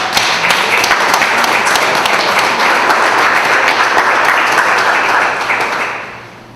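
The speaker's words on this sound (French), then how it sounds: "Je pense que ça mérite une bonne main d'applaudissement" Sustained applause from an audience at a regional culture-days event, a dense steady wash of many hands clapping for several seconds before fading out at the end.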